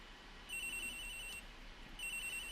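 Electronic telephone ring from the video game Phoenix Wright: Ace Attorney, two short trilling bursts separated by a pause over a quiet background, fairly faint.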